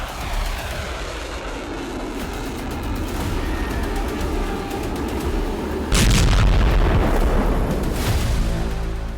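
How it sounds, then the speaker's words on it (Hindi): Heavy, rumbling booms of bombs dropped by fighter jets on Tehran roll on continuously, with a sharper, louder blast surge around the middle that fills the whole range before easing back to a dense roar. "चालीस जंगी जेट से तेहरान में 100 बम विस्फोट"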